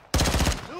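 A short, loud burst of pistol fire in the Modern Warfare 2 video game, several rapid shots in quick succession that ring off into a brief tail.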